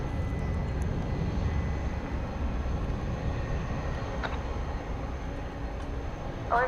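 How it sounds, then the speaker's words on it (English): A Turkish Airlines airliner approaches Dallas Fort Worth at night, a steady low rumbling engine drone held at a moderate level throughout, with a few faint clicks and a brief higher tone near the end, and no speech. "here comes flight 192 Turkish"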